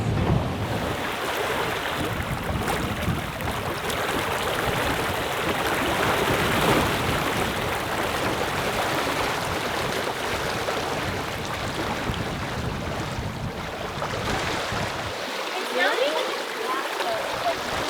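North Atlantic Ocean waves wash and rush around a sailing boat at sea, a continuous loud churn of water with wind buffeting the microphone, and people talking over it at times.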